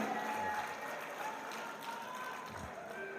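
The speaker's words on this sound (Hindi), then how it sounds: "भरपूर तालियों से इस बात का सबूत दीजिए।" A crowd at a poetry mushaira claps in a dense, steady wash of applause, fairly faint and a little distant, going on the whole time.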